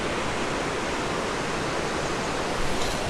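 Big river rushing under the rock formations at the Wonder Bridges in Bulgaria, a steady, loud, broadband roar of flowing water that fills the whole clip without a break.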